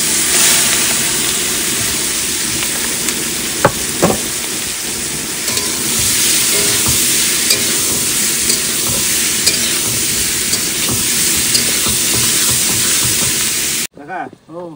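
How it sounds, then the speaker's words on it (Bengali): Fish frying in hot mustard oil in a wok at a riverside sandbank cookout, a loud, steady crackling sizzle that runs almost unbroken, with occasional stirring clatter and a brief cut near the end. "কড়াইতে তেল গরম হয়ে গেছে, এবার দিয়ে দেবো সব মাছ"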